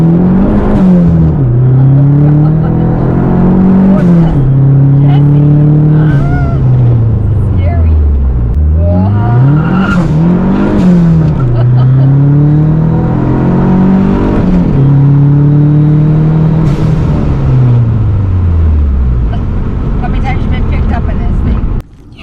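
A Dodge SRT4 accelerating hard through several gears, the engine note climbing loudly and dropping at each shift in a repeating rise-and-fall pattern, with faint cabin voices underneath.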